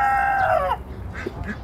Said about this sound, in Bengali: এগুলো হচ্ছে সোনালী মুরগি বলে এগুলোকে।